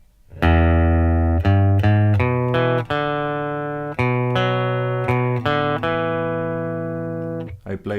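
A guitar plays a riff, about a dozen bright plucked notes in a steady rhythm, each ringing out close and clear with no voices.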